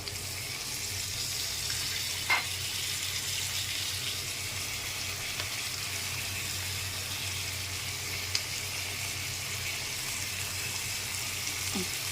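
Papaya and potato fry in a pan as onion, garlic and ginger go in. A soft, steady sizzling hiss continues throughout at low volume, with a couple of faint clicks.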